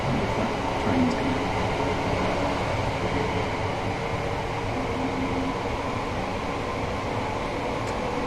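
A Class 387 Gatwick Express electric train in Train Sim World 3 runs with a steady, continuous rumble and hum of motor and wheels, with a faint high whine, and nobody talks over it.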